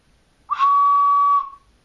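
A single clear, steady whistle-like tone from a homemade 9- or 10-hole ocarina sounds for about a second, sustained evenly before fading out.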